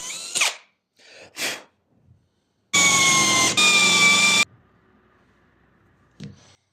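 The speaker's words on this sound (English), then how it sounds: "Now we will drill holes at the spots we measured, just deep enough for the nuts to fit." A power drill whirs loudly for about two seconds of continuous drilling into scrap wood, briefly stuttering midway, with scattered knocks and handling noises before and after.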